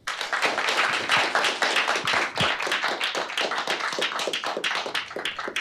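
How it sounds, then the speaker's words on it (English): A small meetup audience applauds after a talk, a close, loud burst of many hands clapping rapidly and steadily for several seconds before tapering off slightly. "A hand of applause for Kyle"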